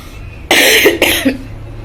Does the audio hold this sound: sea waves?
no